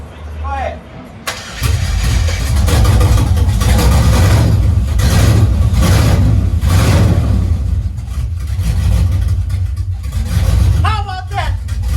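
Chevrolet Camaro SS running on a junkyard engine at its first start, cranking then catching into a loud, rough idle with revving surges, close by, with people talking excitedly over it.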